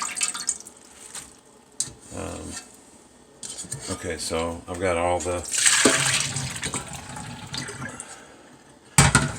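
Water drains out of soaked Amazon shipping-box cardboard into a sink, part of growing mushrooms, with splashing and dripping mixed under a person talking.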